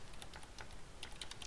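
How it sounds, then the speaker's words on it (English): Quick, light key taps on a computer keyboard spell out a domain name in a short, uneven burst. The typing is faint and close, with no talking. "I'm going to type my domain name"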